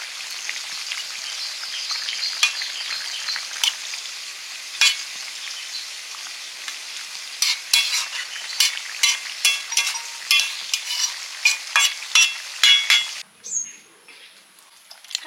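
Food frying in a pan with a continuous sizzle and a run of sharp stirring and scraping clinks in the second half, ending with a quieter moment.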